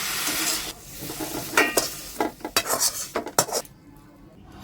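A spoon stirs fried tomato leaves with aubergine and potato in a pan, making bursts of close scraping and clinking against the metal over a steady sizzle, with no talking.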